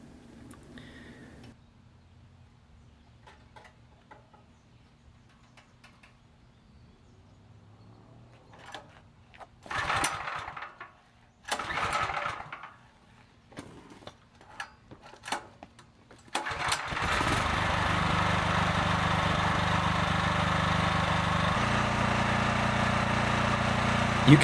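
A Predator 4400 PSI gas pressure washer engine is pulled over in a few separate rough bursts, then fires and settles into a loud, steady, buzzing run that continues to the end, close up.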